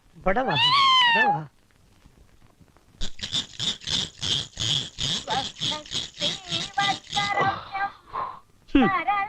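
A cat gives a drawn-out meow, then after a pause a quick series of short, rhythmic cries or chirps, close and fairly loud.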